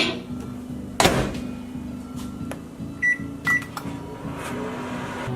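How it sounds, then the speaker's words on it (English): A microwave oven runs with a steady low hum through the whole stretch, broken by a sharp clack and a couple of short, bright beeps toward the end. "I'm gonna stir this up, back in the microwave for another minute."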